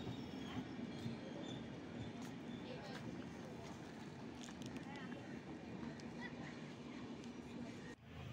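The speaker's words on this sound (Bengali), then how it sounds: "12340 কোলফিল্ড এক্সপ্রেস দুর্গাপুর স্টেশনে নির্ধারিত সময় চলে এসেছে" The 12340 Coalfield Express at Durgapur station, heard as a steady rolling train rumble with clatter and faint squeals, with people talking on the platform throughout.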